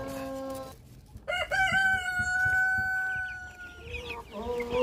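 Black Parmara pullets, two months old, cluck and crow in repeated drawn-out calls, close and fairly loud, with a brief pause before the calling resumes.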